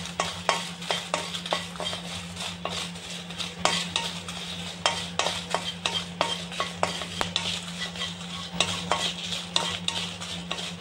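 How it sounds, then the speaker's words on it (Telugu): Dried red chillies dry-roasting in a pan for a mint (pudina) powder, stirred with a metal utensil that scrapes the pan in steady repeated strokes over a faint sizzle and a low steady hum. No one speaks. "తర్వాత ఈ ఎండు మిరపకాయలు వేయిస్తున్నాను"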